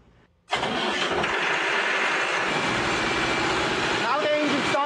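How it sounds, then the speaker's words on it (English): A biogas-fueled turbocharged diesel engine starts after a brief quiet moment, catching abruptly and settling into a loud, steady, rumbling run, with a faint squeak near the end. "Now the engine started."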